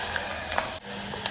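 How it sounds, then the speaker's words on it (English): Hot palm oil poured onto a dip in a Ghanaian kitchen, giving a steady close sizzle with faint stirring clinks, heard alone. "Our oil is ready, so go ahead and pour it on our dip."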